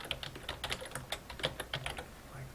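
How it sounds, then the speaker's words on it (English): Rapid, irregular keystrokes on a computer keyboard, quiet and close, with crisp clicks and no talking. "We're going to type in the opposing team"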